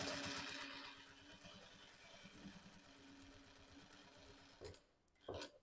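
A sewing machine stitching quilt patchwork runs in a steady rapid mechanical chatter, then pauses briefly for a small backstitch and restarts, close and quiet with no talking.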